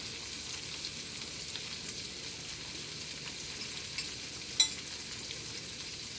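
Blanched green vegetables sizzling in a saute pan, a steady, even frying hiss throughout with one brief clink near the end, close and fairly quiet, no talk.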